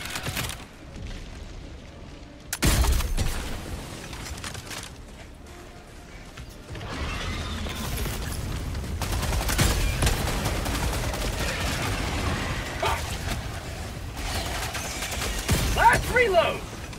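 A deployed sentry gun in a video game fires in sustained bursts alongside other gunfire and explosions. The sound is loud and dense, with shouted voices heard over it.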